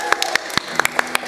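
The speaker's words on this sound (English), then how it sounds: "Round of applause." Audience claps briefly at a Hanukkah and Shabbat service, a short burst of scattered, uneven hand claps heard up close.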